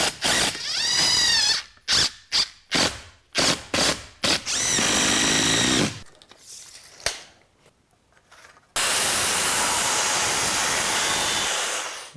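A power drill drives screws into scrap wood for a garage workbench, with short stuttering whirring bursts that rise and fall, a quieter stretch with light clatter, then a long continuous high-pitched run to the end.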